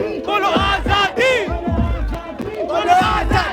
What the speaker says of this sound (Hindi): इधर देखिए इस भीड़ को।